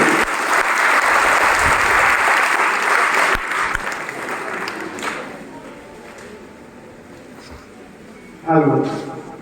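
Loud applause from the students and guests at an annual student felicitation ceremony at a coaching centre, steady for several seconds before fading, with a brief burst of talk near the end.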